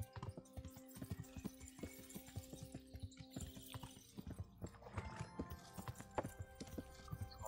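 Rhythmic clip-clop of horse hooves trotting steadily in the game Kingdom Come: Deliverance, fairly quiet, with a faint game-like ambient hum and no talking.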